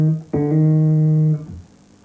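A bass guitar hammer-on with the second finger: a plucked note rings, then a clean hammered jump to a higher sustained note that fades, followed by a fresh pluck at the very end, played alone.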